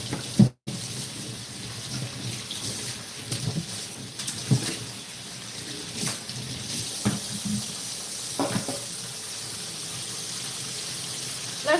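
Fresh tap water runs into a kitchen sink while preparing a salad, a steady hiss of flow with occasional splashes and clunks, moderately quiet and with no talking.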